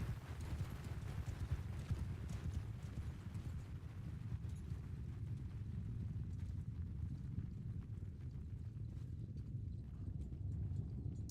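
Horse hooves gallop continuously in Bannerlord, a dense, steady clatter of many mounts close by under low battle rumble, with no pause across the stretch.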